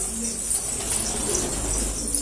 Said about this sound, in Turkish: Elvan ve filo türü, her türlü kuş var arkadaşlar